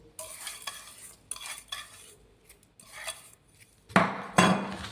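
A spoon scrapes and stirs thick sukhadi mixture with fried edible gum in a pan in short irregular strokes, ending with louder clattering scrapes.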